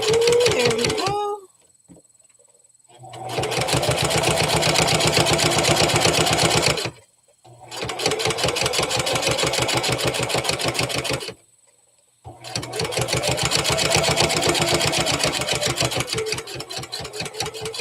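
A sewing machine stitching a seam on a small fabric mouse project, loud rapid needle clatter running in three long bursts separated by brief silences, with a short spoken moment at the start.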